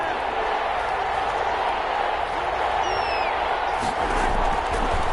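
A stadium crowd roars and cheers in a PS4 American football game, a broad, steady wall of noise that holds throughout, with a commentator's voice running over it.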